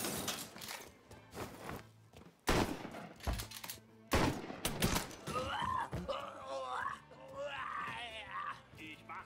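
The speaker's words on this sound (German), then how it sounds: "Ich schieße" Gunfire in the video game Mafia 3: sharp, loud bursts of shots break out among shuffling, mechanical game sounds, while voices talk over the action.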